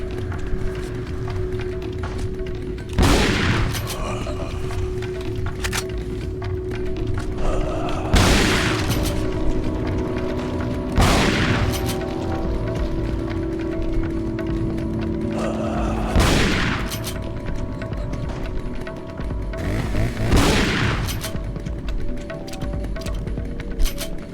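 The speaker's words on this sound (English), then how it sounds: "The damage drop off is real with this shotgun." Five heavy shotgun blasts from Resident Evil 4 (2005) boom out at irregular intervals of a few seconds, each a sharp full-bodied burst over a steady game ambience with low droning tones.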